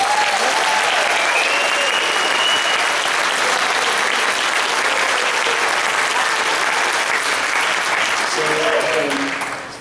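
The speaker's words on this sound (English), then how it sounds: "give one last round of applause for all the performing ensembles tonight" Loud, sustained applause from a concert audience for combined school bands at a winter concert, dense clapping holding steady for about ten seconds with a few voices rising near the end.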